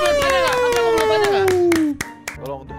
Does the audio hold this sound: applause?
yes